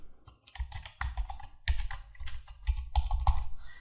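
A password being typed on a computer keyboard: quiet, close key clicks in uneven bursts, with short pauses between groups of keystrokes and no voices.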